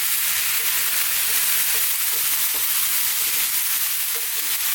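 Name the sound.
mixed vegetables frying on medium-high heat for Indian curry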